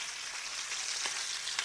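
Beef fillets fry in a pan near the end of cooking, a soft, steady sizzling hiss with a few faint pops, close and without voices.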